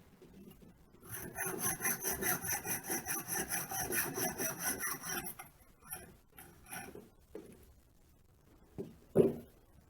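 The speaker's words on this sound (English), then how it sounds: "I'll cut that off in the vise" A metal tube clamped in a cloth-padded vise is cut with a hand saw, steady rhythmic rasping back-and-forth strokes for several seconds, then a few scattered scrapes and a sharp clunk near the end.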